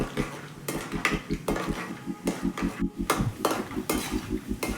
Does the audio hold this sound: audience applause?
no